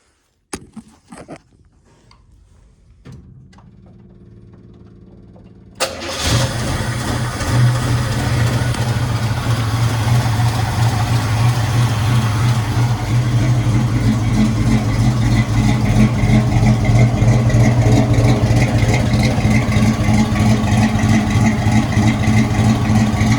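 A square body truck's engine cranks and catches after a few brief clicks, then settles into a loud, steady running idle with a slightly lumpy, cammed rumble, with no talk.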